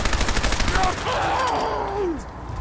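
Tommy gun fire from a Fallout 4 mod, a quick rattling burst of automatic shots at the start followed by swooping whistle-like effects, with someone talking over it.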